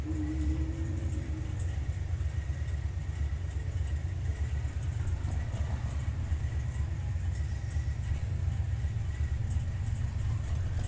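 Drag racing car on a radial tyre spinning its wheels with no grip at a drag strip, a steady loud engine roar with tyre noise continuing throughout, close and unbroken.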